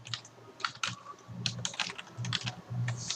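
Keys clatter on a computer keyboard in quick irregular bursts of close, crisp clicks, with a firmer Enter press among them, played alone.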